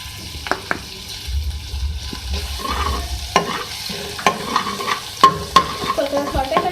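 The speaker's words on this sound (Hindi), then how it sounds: "सबसे पहले ऑयल में मैं डालूंगी लहसुन" Garlic frying in hot oil in a pan while cutlets are being prepared, a steady sizzle with scattered clinks and scrapes from stirring, fairly close, with no talking.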